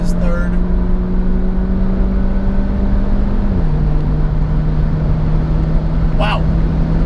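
A 400 HP big-turbo Audi A3 2.0T pulls hard in 3rd gear on a race track, its steady drone holding close and loud from start to finish, with a voice speaking over it.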